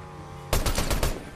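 Gunfire in the video game Fortnite starts abruptly as a quick rattle of several rapid shots, loud and close, after a brief stretch of low background hum.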